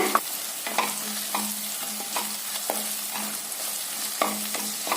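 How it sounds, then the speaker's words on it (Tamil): Green chillies, chilli powder and homemade biryani masala sauté in hot oil for an ivy gourd biryani, a steady close sizzle broken by regular scrapes and clinks of a stirring spoon against the pan. "இதையும் சேர்த்து நல்லா ஆயில வதக்கிடலாங்க."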